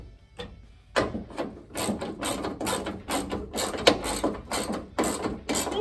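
A bolt tightened by hand with a ratchet on an S10 truck build in a weld shop, giving a steady series of close, crisp clicking strokes in quick rhythmic bursts, with no talking.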